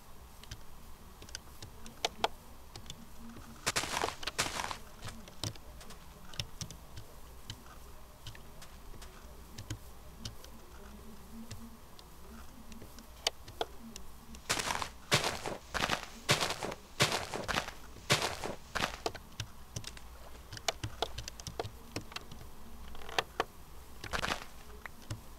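Footsteps of a character walking across an island in a video game, heard as clusters of quick crunchy steps in bursts, with quieter stretches of steady ambient hiss between them.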